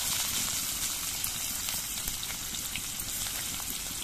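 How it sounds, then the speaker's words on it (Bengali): Chopped onions sizzle in hot oil with garlic already browned in the pan, a dense, even crackle and spatter that carries on without a break and with no voices. "এবার এর মধ্যে আমি কোচানো পেঁয়াজগুলো দিয়ে দিচ্ছি"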